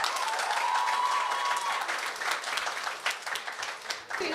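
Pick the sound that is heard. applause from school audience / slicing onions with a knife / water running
applause from school audience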